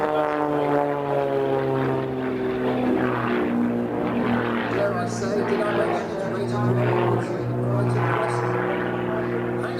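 Extra 300 aerobatic propeller plane performing extreme aerobatics at an air show festival, its engine droning steadily and loudly with a strong harmonic buzz that rises and falls as the aircraft maneuvers overhead.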